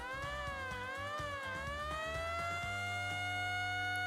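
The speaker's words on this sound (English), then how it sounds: "They all climb aboard the fire truck and turn on the sirens and lights." A loud fire truck siren wails, rising and holding in a steady tone, with a low rumbling engine-like pulse underneath.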